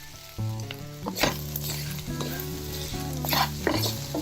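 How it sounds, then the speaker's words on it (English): Masala-coated pieces frying in a pan, a steady sizzle with repeated scraping and clinking strokes as a utensil stirs them, close and alone. "So it has to fry a little bit more, and I think it is done."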